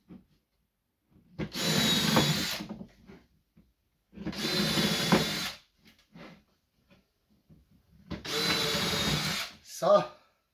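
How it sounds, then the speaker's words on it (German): An electric drill pre-bores holes in wooden rhombus cladding boards in a carpentry workshop, whirring in three loud, steady bursts of over a second each with silent pauses between them. "Bohrmaschine hierher. Diese Bohrmaschine wieder heraus"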